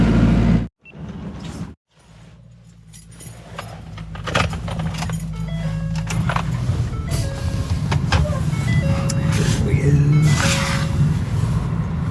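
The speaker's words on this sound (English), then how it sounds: "I'll back your truck up a little closer." Keys jangle briefly at first, then a truck backs up. Its engine rumble swells steadily louder and nearer, with faint intermittent tonal beeps over the growing drone.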